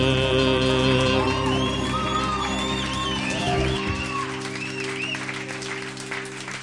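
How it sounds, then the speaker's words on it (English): After a live performance of the sea shanty "Drunken Sailor", the audience breaks into loud, sustained applause with scattered shouts and whoops. The sound fades gradually while a sustained instrumental tone rings beneath it. "Now let's have a really big round of applause for our armed services."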